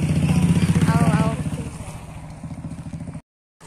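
A motorcycle engine putters close by with a rapid, even chugging pulse, loud at first and then easing as it moves off, before cutting out abruptly.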